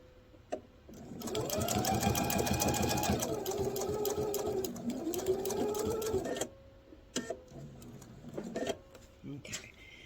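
Sewing machine stitching fabric for a table runner: a steady close motor whir with rapid needle chatter for about five seconds, dipping briefly mid-run, then stopping, followed by short fabric handling sounds and quiet talk.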